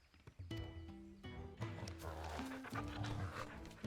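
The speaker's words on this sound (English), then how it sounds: "The dog has transcended space and time to say, Bork." The dog Torgal in Final Fantasy XIV gives a bark amid game sound effects and tonal music, the bark-like calls near and clear over a busy layered in-game soundscape.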